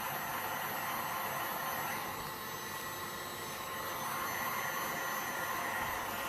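A heat tool blows hot air over a large sculpted black, white and gold resin bowl, producing a steady, close, even whooshing roar with no breaks.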